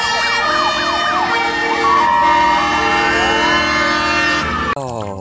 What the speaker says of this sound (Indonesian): Wis, ada mobil pemadam kebakaran ya.